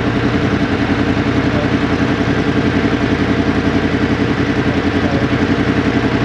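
A 2023 Yamaha MT-10 motorcycle engine runs at a steady idle, close and loud, with a rapid even pulsing throb and mechanical clatter and no talk.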